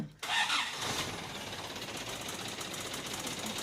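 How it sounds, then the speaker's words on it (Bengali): A high-cabin JAC pickup truck cranks and fires up abruptly, then settles into a loud, steady rough idle that fills the rest of the moment close by. "আমি এবারে আপনাদেরকে গাড়ির একটু স্টার্টটা দিয়ে দেখানোর চেষ্টা করব"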